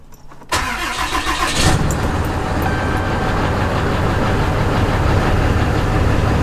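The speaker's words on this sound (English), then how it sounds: "we can start her up" A Cummins 6.7 diesel pickup, tuned back to stock, cranks briefly and fires up, settling into a loud, steady, rumbling idle close by.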